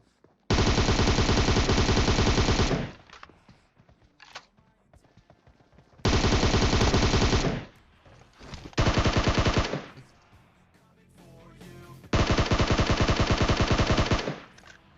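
Long bursts of automatic gunfire in PUBG Mobile, four sustained rapid strings of shots separated by short pauses with faint game sounds between, loud and close.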